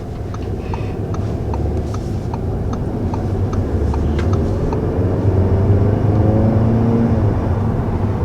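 A 2020 Audi A3 with a 2-liter turbocharged four-cylinder engine drives along. Its steady engine hum and road noise rise gradually in pitch as it accelerates, with faint ticking clicks early on and no speech.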